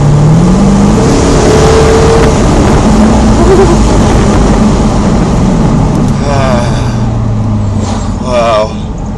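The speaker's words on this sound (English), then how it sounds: "550 bhp's worth of supercharged 5-litre V8 engine" Jaguar XKR-S convertible with a 550 bhp supercharged 5-litre V8 accelerating hard, a loud sustained engine roar with rising gear tones that stays strong throughout, with brief voices near the end.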